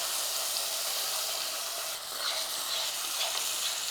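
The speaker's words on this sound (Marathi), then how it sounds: "यामध्ये घालूयात बेडगी मिरची पावडर आणि मसाला याला मंद आचेवर परतून घेऊया" Byadgi chili powder and masala sautéing in oil over a low flame, a steady soft sizzle and hiss that holds evenly throughout with no talking.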